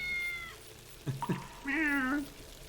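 A cat meows in the video game Tales of the Neon Sea. Two short chirps come first, then one longer, clear, tonal meow, all fairly close over a faint background hum.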